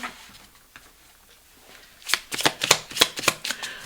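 Lenormand cards are handled quietly, then shuffled in a quick run of crisp, close riffling bursts that fill the second half.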